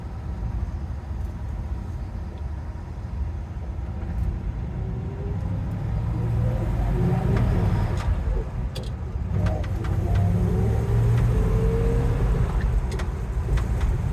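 A restored 1960 Ford F100 pickup with its original motor cruises along an open road. A steady, moderately loud engine and road rumble fills the whole stretch, with some wind noise and brief clicks.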